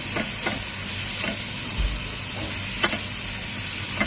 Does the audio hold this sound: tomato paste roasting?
yes